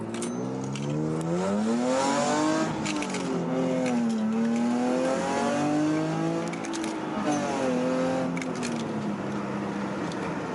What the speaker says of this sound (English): I'm gonna go ahead and do a pull on this car